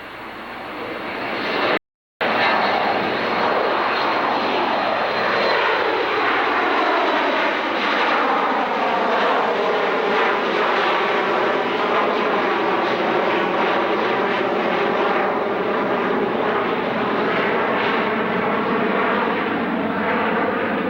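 An Amerijet Boeing 727 cargo jet with winglets at Dallas-Fort Worth, a loud steady engine roar with sweeping tonal whine as it passes close, continuous throughout.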